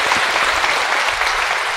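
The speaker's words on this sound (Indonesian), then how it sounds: "Tepuk tangan." Dense, loud applause fills a church gathering for children's first communion, a continuous wash of many hands clapping at once with no voices over it.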